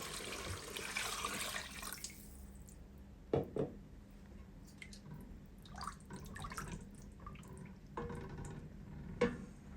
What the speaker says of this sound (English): Adding water.